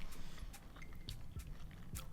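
Close, crunchy bites and chewing of a cold salad of black-eyed peas, garbanzo beans, corn and cucumber, a few sharp crisp crunches over a soft, steady mouth-noise background with no talk.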